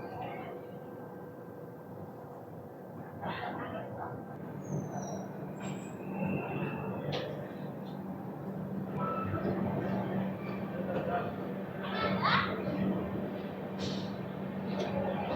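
Venkatadri Superfast Express train standing at Gooty Junction station platform, a low quiet rumble with a steady hum and occasional hisses and clanks, rising slightly, faint and mid-distance.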